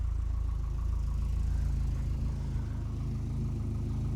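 A 1988 Lotus Esprit with a suspected throttle position sensor fault idles roughly, a low continuous engine rumble that holds steady and close, with a slight dip in tone partway through and no voices.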